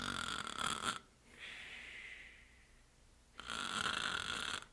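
A voice imitates snoring, with a long raspy inhaled rasp between two louder, rougher bursts, mimicking how breathing shifts once someone falls asleep; close and alone, with no other sound.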